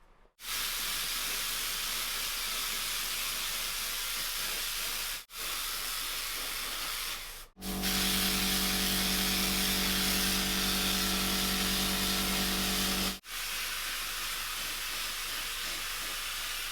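Aerosol spray paint hisses in steady bursts onto the underside of rusty Hummer springs turned upside down, with a long continuous spray in the middle and shorter passes either side, close and loud with no talking.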